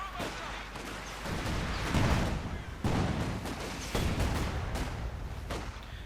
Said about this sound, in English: And more artillery flares. Really impressive. Just keeps firing them.